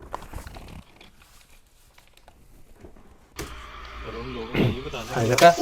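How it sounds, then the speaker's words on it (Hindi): After a near-silent stretch, a tractor engine rumbles to life and runs loudly, its droning pitch rising and falling. "ट्रैक्टर चल रहा है, आवाज़ आ रही है।"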